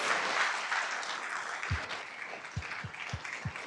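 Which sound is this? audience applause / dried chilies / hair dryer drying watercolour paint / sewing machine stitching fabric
audience applause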